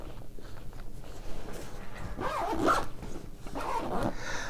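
A zipper pulled open on a pocket of a First Tactical 3 Day tactical backpack, a short rasping pull heard close by with some handling noise around it.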